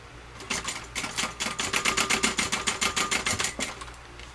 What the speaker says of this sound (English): I'm going to sew it with about a 1/2 inch seam allowance